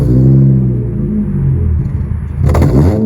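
The five-cylinder engine of a high-mileage Volvo V70 with twin exhaust pipes rumbles deep and loud close by, holding a steady throaty burble before a sharper burst near the end.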